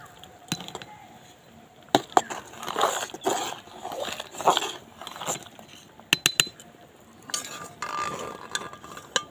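A spoon scrapes and clinks against a pot as spices are stirred into vegetable khichdi with cauliflower, giving irregular close metallic knocks and scraping strokes.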